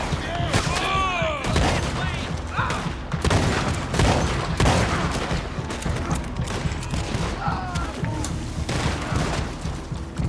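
Rapid bursts of gunfire crack through the video game Red Dead Redemption 2, repeated shots and booms spread across the whole stretch with faint voices and game sounds underneath.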